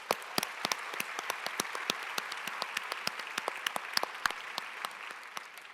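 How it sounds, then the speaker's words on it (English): Keynote audience at a conference gives a round of applause for sponsors, a steady wash of crowd clapping with sharp individual claps standing out close by. "One more round of applause for our sponsors."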